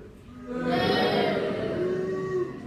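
A live crowd at Thorpe Park theme park lets out a drawn-out low collective boo, many voices blending into a steady loud moan that holds for about two seconds.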